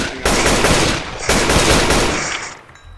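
Rapid automatic gunfire in the survival game Rust, two loud sustained bursts of close shots firing in quick succession, the second trailing off toward the end.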